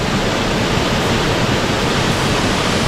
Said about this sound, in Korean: 폭포가 화가 많이 났습니다.